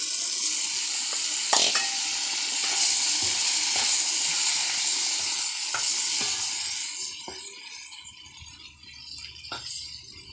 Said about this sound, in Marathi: आणि लोखंडाच्याच कढईत आम्ही कालवण टाकतो.